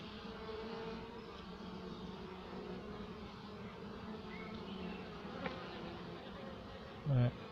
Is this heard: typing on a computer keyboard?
no